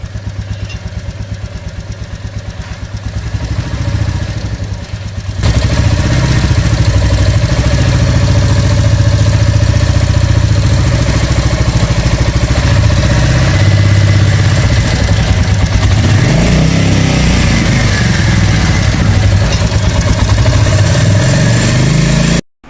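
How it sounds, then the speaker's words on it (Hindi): A 2024 Royal Enfield 350 Military Black motorcycle idles nearby with a steady, loud, continuous thump, its tappets needing adjustment and giving a faint rapid ticking over the engine note. "एक टिक टिक टिक टिक की कंटिन्यूसली साउंड आ रही है।"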